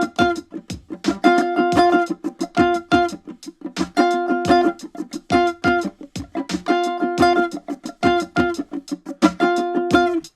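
Octave strumming on a ukulele, in a funky up-down pattern with muted chucks, locks into a steady drum beat. The bright strums and percussive hits repeat in a tight, looping groove.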